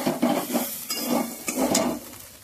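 Pointed gourd (potol) sautéed in a pan, with a run of rhythmic stirring scrapes and clinks of a utensil against the pan over a soft sizzle, close and steady.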